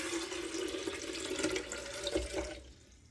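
A quart of water poured into a blender jar, a steady splashing, gurgling stream lasting a few seconds before thinning out at the end, close and alone.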